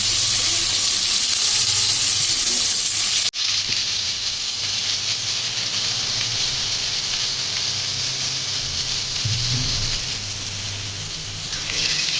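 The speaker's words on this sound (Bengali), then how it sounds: "ওনার জন্য পটল ভাজা হচ্ছে" Pointed gourd slices sizzle and fry in plain oil in a pan, a steady close crackle that drops briefly, then continues more softly with faint clinks of stirring.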